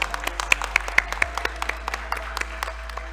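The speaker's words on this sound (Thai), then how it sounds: "ขอเสียงปรบมือนะคะให้สำหรับความสำเร็จในวันนี้นะคะ" Audience at a Ring the Bell for Gender Equality ceremony giving scattered, sparse claps, individual hand claps popping out one by one over a low steady hum.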